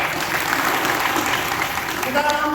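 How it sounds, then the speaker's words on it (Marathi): A crowd at a pilgrimage procession gathering claps steadily to welcome Targe Maharaj, a dense continuous patter of applause with voices talking over it. "महाराजांचं सर्वांनी टाळ्या वाजवून स्वागत करा"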